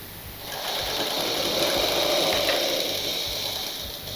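A sewing machine stitches petticoat (chemise) fabric in one steady, close, continuous run, its mechanical whir holding constant throughout with no voices.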